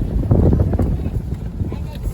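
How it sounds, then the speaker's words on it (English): A low, continuous rumble comes from an RV rolling along a rough road toward a quiet, windy camping spot, steady and close with road texture throughout. "It's quite rumbly, the road."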